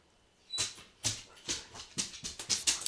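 A dog whimpers in a rapid series of short, breathy, high whines, about a dozen pulses in quick rhythm, close and fairly quiet with no talking.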